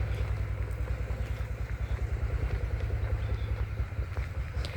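Tractor engine running in a village where people are digging potatoes, a steady low pulsing rumble with a throbbing rhythm, fairly loud and continuous with faint background clatter.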